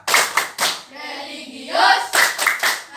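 Classroom tepuk PPK, a rhythmic Pancasila character-education clapping chant, with bursts of group hand claps in a patterned rhythm at the start and end and voices chanting in between.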